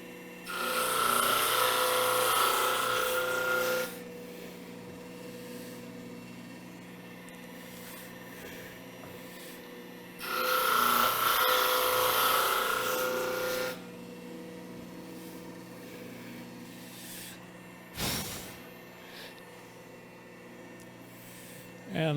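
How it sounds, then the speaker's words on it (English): Drum sander fitted with 80 grit sandpaper taking light cuts on wood in a CNC router inlay project, two loud bursts of several seconds each of broadband sanding noise separated by a lower machine hum, with a short knock near the end. "Taking very light cuts. Using an 80 grit sandpaper on the drum."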